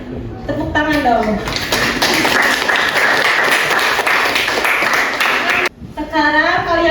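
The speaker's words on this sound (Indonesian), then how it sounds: "Tepuk tangan dong." A class of students claps together in a classroom, a steady burst of dense applause lasting several seconds, bracketed by children's voices talking before and after.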